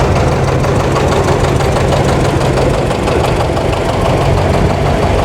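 John Deere 730 diesel tractor engine idling close by with a loud, continuous low knocking thrum and steady mechanical vibration, no voices.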